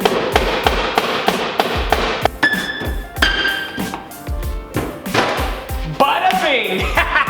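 A rapid series of loud metallic hammer blows on an Audi R8, evenly spaced, with a ringing clang partway through, played over background music.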